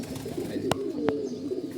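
Pigeons resting after bathing on a sunny poultry farm give soft, low cooing close by, with a couple of sharp short clicks breaking the gentle murmuring.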